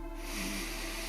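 Single deep breath drawn in through the nose during a morning meditation, a close, soft rushing inhale lasting about a second.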